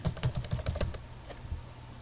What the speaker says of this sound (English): I'm going to type in comfort and handling.